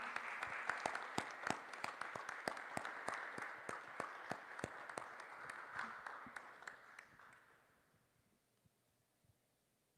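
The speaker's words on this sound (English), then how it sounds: "Please join me in a round of applause for our graduates." Faint audience applause for graduates at a teaching health center graduation ceremony, distinct individual claps ringing out before thinning and fading into quiet.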